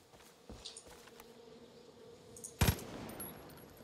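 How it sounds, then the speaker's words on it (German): Bees buzz in Far Cry New Dawn, a faint thin drone under ambient game sound, with a few soft clicks and a sudden loud crackling burst near the end. "Bienen. Ich hoffe, die verfolgen mich nicht."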